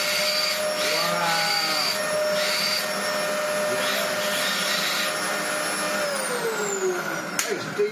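Old Dyson DC04 vacuum cleaner before refurbishment, suffering poor suction, running with a loud steady whine and airy rush, with a rising pitch sweep and a few knocks near the end.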